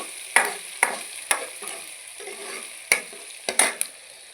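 Onions fry in a pan that has turned them red, with a close, steady sizzle broken by sharp clinks of a spoon stirring against the metal, several in quick succession near the end. No speech.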